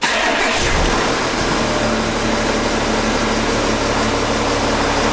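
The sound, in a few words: Porsche engine starting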